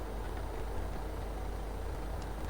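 A tractor engine in Farming Simulator 2015 idles with a low, steady rumble, droning evenly and fairly faint with no talk over it.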